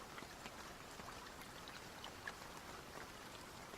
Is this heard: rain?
yes